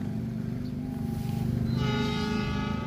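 A Turangga train rolls past a new double-track rail line under construction, its steady rumble and clatter filling the scene as a loud horn blast joins in partway through and holds to the end.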